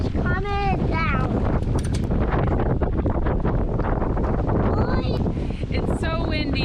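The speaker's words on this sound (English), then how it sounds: "It's so windy that Hunter said it's hard to do tricks, but" Strong gusts batter the microphone at an outdoor skate park in Seward, Alaska, a loud continuous low roar throughout, with voices and a child's chatter heard over it.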